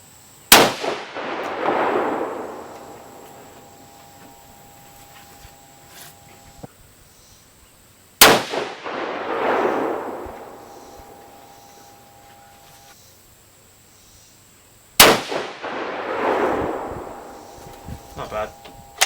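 Three loud rifle shots from a 300 Norma Magnum firing 230gr Sierra Match King loads, spaced about seven seconds apart, each a sharp crack followed by a long decaying rumble and echo, with a faint electronic tone lingering between shots.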